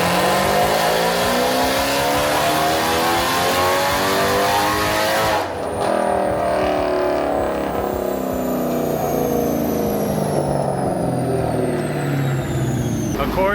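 Dodge Hellcat fitted with a Formula Z exhaust pipe making a hard acceleration run: a loud, raspy, continuous engine roar climbing in pitch, then a shift and another rising pull, heard close to the car.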